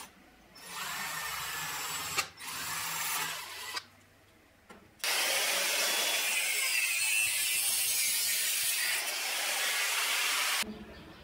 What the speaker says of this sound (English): To get a strong flame, I am drilling the nozzle with a 2 mm drill bit.